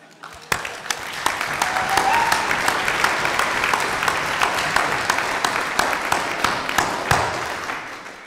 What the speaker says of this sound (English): I want us to give a round of applause for the blunt statement of Romeo Saganash in the House of Commons